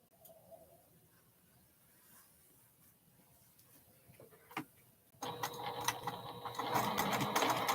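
A home sewing machine stitching a quilted bear pattern, quiet faint handling and clicks at first, then the motor starts and runs loud and steady in a fast whirring rattle.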